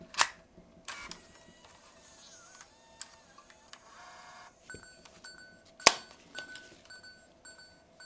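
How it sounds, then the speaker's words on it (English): A digital camcorder's tape compartment is slid open and the tape ejected: a few sharp mechanical clicks and snaps, with faint whirring and short electronic tones between, close and quiet, with no talking. "So I'm going to slide that open, and we will eject the tape"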